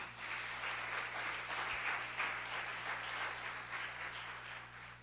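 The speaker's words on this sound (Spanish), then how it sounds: "Dele un aplauso al Señor." A church congregation at an El Shaddai service applauding together, a dense, continuous wash of many hands clapping at moderate distance, steady for several seconds with a low hum underneath.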